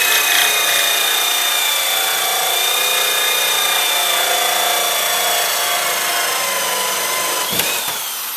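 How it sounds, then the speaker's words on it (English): A drill with an alloy hole saw grinds continuously through material, a loud steady whining rasp that holds for several seconds before a brief knock near the end. "maybe move the drill back and forth slightly, and that'll basically get the job done"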